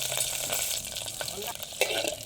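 Green chillies, fifteen of them, fry in hot oil with cumin, giving a steady close sizzle and crackle with a few light stirring scrapes throughout.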